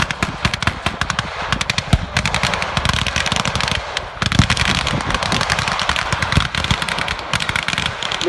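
Italian machine gun fired blank in a desert skirmish reenactment outdoors, long rapid bursts of sharp repeated shots close by and loud, with brief pauses between strings of fire and no talking.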